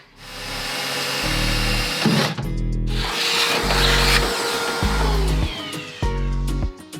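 Power drill boring holes for a Subaru bracket, the motor whirring up and down in repeated short bursts with sharp mechanical clatter between them, close and loud.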